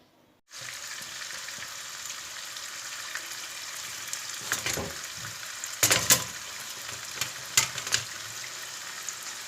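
Oil mixed with margarine sizzles steadily in a pan on the stove, with a few louder bursts and clinks as food is stirred.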